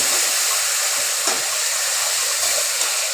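Onions fry with spice paste and a splash of water in a pan, giving a steady, dense sizzle and hiss that carries evenly throughout, with faint stirring scrapes underneath.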